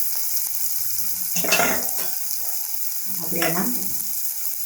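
Finely chopped onions sautéing in a pan, a constant close sizzle under a voice speaking briefly twice.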